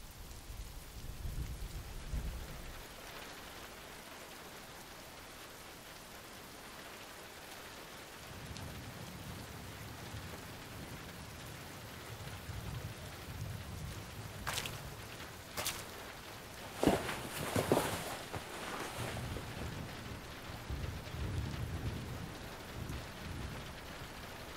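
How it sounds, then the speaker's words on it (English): Rain pours steadily in the video game Road 96 with rolls of thunder rumbling low; a few sharp crackles of thunder strike in the middle, all fairly quiet and without speech. "let's wait out the rain in the booth."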